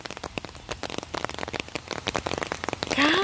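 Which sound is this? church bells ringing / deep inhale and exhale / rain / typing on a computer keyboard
rain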